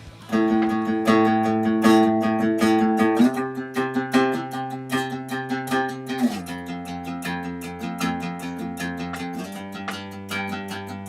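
An electric guitar plays the verse riff of a song, repeated picked phrases shifting between a few chord positions with a steady rhythm, clear and alone.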